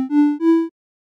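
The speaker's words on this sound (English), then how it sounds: "It will start with a simple note at first, played for 300 milliseconds. Then I'll play a different note after 300 milliseconds." A short synthesized melody for a JavaScript game plays as clean electronic beeps, a quick blip followed by two steady tones stepping slightly upward, each about a third of a second, then silence.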